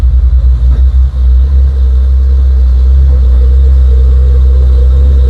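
A heavy trailer truck's engine labours uphill in a downpour, a loud, deep, steady drone with a few brief dips early on and rain hiss faintly over it.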